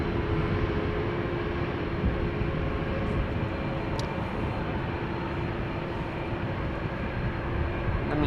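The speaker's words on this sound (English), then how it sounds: "Singapore Airlines flight 323 to Singapore, A350-900, 7-year-old airplane, first flight December 2016." Singapore Airlines A350-900 jet on a wet runway at rainy Amsterdam Schiphol, a loud steady broadband engine roar heard from a distance with no break across the whole stretch.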